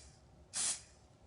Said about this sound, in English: and then you literally just spray twice.